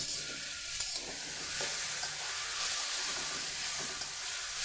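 Rice with salt stirred in a pot for fried rice, a steady broad sizzle and hiss running throughout with soft scraping stir strokes, close and fairly quiet, with no talk.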